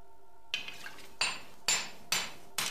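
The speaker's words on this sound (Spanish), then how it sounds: "se golpea y extiende el hierro para crear la hoja de la espada" Iron being hammered on an anvil to forge a Japanese sword blade, five sharp metallic ringing strikes at an irregular, slow pace, fairly close and clear over a quiet background.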